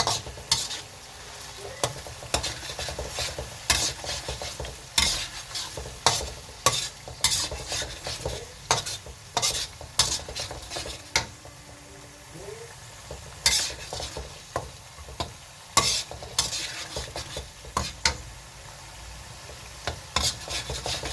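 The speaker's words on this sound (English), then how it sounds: "onions done. And now you fry." Onions for chicken curry sizzle in a hot pan as a utensil scrapes and stirs them in frequent, uneven strokes, close up with no talking.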